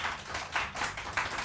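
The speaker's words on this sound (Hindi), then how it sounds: "बहुत अच्छा जी, इनके लिए बहुत सारी तालियां।" Studio audience clapping on a Pakistani morning TV show: a short, thin patter of separate hand claps, fairly quiet and unevenly spaced, with no voices over it.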